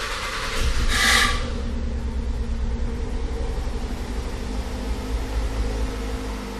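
A 2005 Ford Escape engine cranks with a brief bright whir, then catches and settles into a steady, low idle rumble that runs on alone close by.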